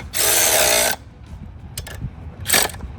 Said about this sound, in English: Always tighten it down with the torque wrench.